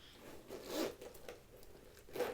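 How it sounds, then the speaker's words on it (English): A zipper on a Louis Vuitton Murakami Multicolor Mini Bumbag being pulled open in two short rasping bursts, close by, with brief handling rustle between them. "I'm sure that zipper will get easier to open"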